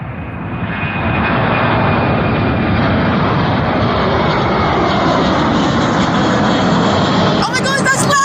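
A jet airliner takes off at Fort Lauderdale-Hollywood International Airport, its engines building to a loud, steady, close roar that fills the whole clip, with a brief rattle near the end.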